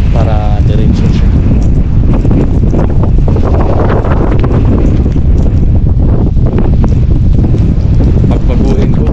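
Strong storm wind battering a boat: loud, continuous roaring gusts buffet the microphone, with rushing water and a voice speaking underneath.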